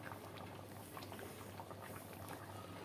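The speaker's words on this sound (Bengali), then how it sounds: "একদম টকবক করে ফুটিয়ে নিতে হবে" A pan of lau shak, bottle gourd leaf curry, simmers steadily with a soft, continuous bubbling patter and a low hum, faint and even throughout with no voices.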